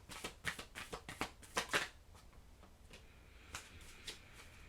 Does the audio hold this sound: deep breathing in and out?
no